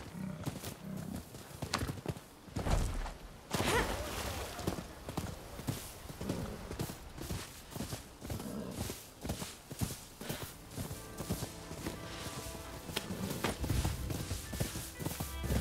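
Steady clip-clop of horse hooves walking in Rise of the Ronin on PS5, rhythmic and continuous, with occasional soft background sounds.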